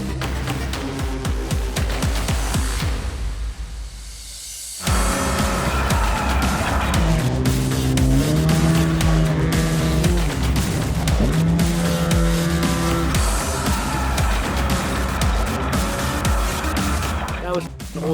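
Trophy trucks race off-road in the Nevada desert near Las Vegas, engines roaring loud and close with shifting pitch and a brief lull before the revving surges again.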